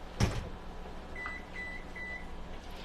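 A kitchen oven timer gives a few short, faint electronic beeps in a quiet kitchen, spaced about half a second apart after a single knock, while dumplings bake in an oven set around 450 degrees.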